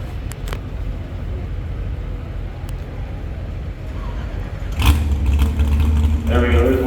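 A pulling vehicle's engine at a county fair truck and tractor pull fires up with a sudden loud roar partway through, then holds a steady revving rumble over continuous crowd and announcer noise.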